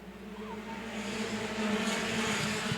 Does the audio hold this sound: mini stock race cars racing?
yes